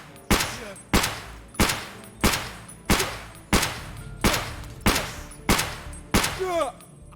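.366 rifle firing at body armor in Escape From Tarkov: eleven loud, evenly paced gunshots, each with a short decaying tail, ending in a faint rattling clatter.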